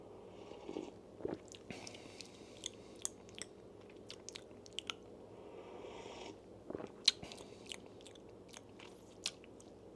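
Close, quiet chewing of a coffee-flavoured food mixed with egg yolk, with soft crunches and sharp bite clicks scattered irregularly, and no talking.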